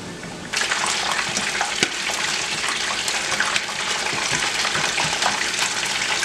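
Beer-battered perch fillets dropped into hot oil, a sudden loud hissing crackle starting after a half-second and sizzling steadily, close up, with no talk.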